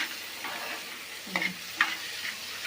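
Masala frying in a pan for a dried bombil chutney is stirred, producing a steady close sizzle broken by a couple of sharper scraping strokes, with no one speaking.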